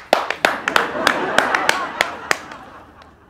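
About ten sharp, separate hand claps land at an uneven rhythm, close and crisp, in a Hindi comedy sketch, with a voice faintly underneath.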